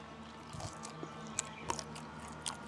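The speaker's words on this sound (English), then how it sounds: "Young's gonna crunch on the skin because you can hear this all the way to Waikiki." Crispy pork belly skin (lechon) crunched close to the mouth, a handful of sharp, brisk cracks scattered over quiet chewing and faint room noise.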